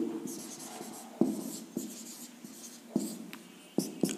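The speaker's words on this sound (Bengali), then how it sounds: "তাহলে পুরো বাক্যটা আবার একটু নতুন করে লিখব" Chalk or marker strokes on a classroom board as a teacher writes out a sentence, soft scratching with sharp taps at each new stroke, close and fairly quiet with no talking.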